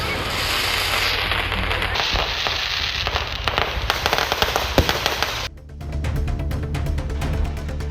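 Festival fireworks at an old temple's Chithirai celebration in Vilathikulam, Thoothukudi, crackle and pop in a dense, continuous barrage before cutting out abruptly, after which a lower ambient rumble remains.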